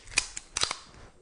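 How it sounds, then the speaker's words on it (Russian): A close-range Makarov PM pistol shot at a shooting range gives a sharp crack followed by quick metallic clicks as the slide locks back, brief and loud with no talk. "произвел выстрел, пистолет стал на затворную задержку"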